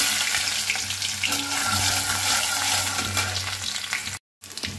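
Garlic and dry chillies frying in mustard oil, a loud, dense, continuous sizzle with some stirring, broken by a brief gap of silence near the end.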